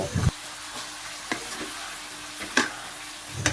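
Pork neck stir-fried with sliced green and red chilies in a pan, a low steady sizzle broken by a few sharp scrapes and clanks of the spatula, close and fairly quiet.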